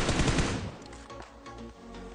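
Gunfire in the PUBG Mobile video game sounds as a loud burst of rapid automatic shots that fades into scattered, fainter shots, with no speech.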